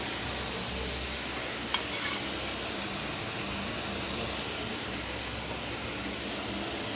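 Carrots sauté in ghee for carrot halwa, giving a steady, soft sizzling hiss that holds evenly throughout with no voices.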